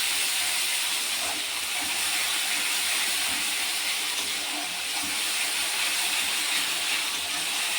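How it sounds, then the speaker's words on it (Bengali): Ginger-onion-garlic paste fries in hot oil with a constant, bright sizzling hiss that stays even and unbroken throughout, heard alone without any talk. "এবার এতে আমি দিয়ে দেবো এই আদা পেঁয়াজ রসুন পেস্ট। এটা দিয়ে একটু কষাবো"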